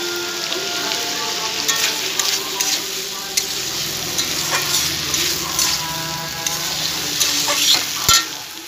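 Young jackfruit stir-fried with spice paste in a pan, a steady crackling sizzle with scraping stirs throughout, close and fairly loud, no talking.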